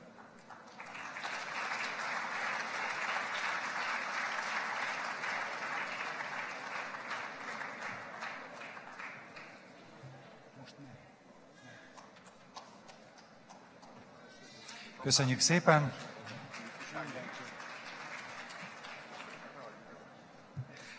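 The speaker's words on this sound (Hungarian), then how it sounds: "annál nagyobb a taps, ami neki szól" Audience applause at a nature photography award ceremony, a broad steady clapping that swells early, fades through the middle and returns briefly near the end, with a speaker's voice over it.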